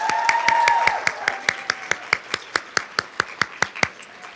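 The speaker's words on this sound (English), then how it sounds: "can we give one more round of applause for Katie?" A few people clap at a social work symposium, giving a speaker a short, sparse round of applause with distinct separate claps that slow and thin out toward the end.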